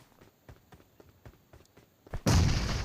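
A grenade goes off in a shooter video game, a sudden loud close blast that ends a run of quick soft footstep-like thuds, leaving a sustained roar for the final half second.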